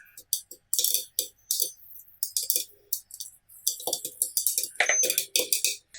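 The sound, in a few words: popcorn popping in covered pan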